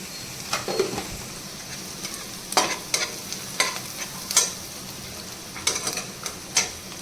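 Spices fry in a pan with chopped chillies while a utensil stirs them, sparse scraping strokes over a soft steady sizzle, close and fairly quiet, no voices.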